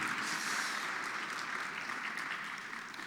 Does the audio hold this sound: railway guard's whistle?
no